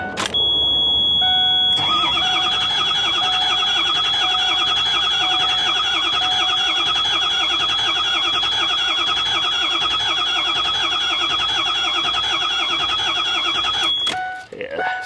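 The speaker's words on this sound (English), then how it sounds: "Starter's tired," The 6.0 diesel engine of a Ford E350 bus cranks on a tired starter against a weak battery, a loud, steady, labored grinding whir that holds for about twelve seconds without firing, then stops.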